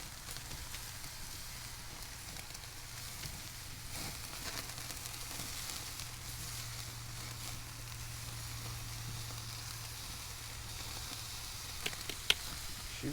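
Meat sizzles on a BBQ grill over a fire, a soft, steady crackling hiss running throughout with occasional small pops, fairly faint and without talk.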